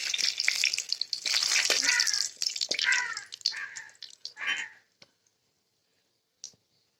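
Two bay leaves dropped into hot oil for an Assamese chicken and potato curry, with a bright crackling sizzle that is loud for about five seconds, then cuts off into near silence and one short final pop.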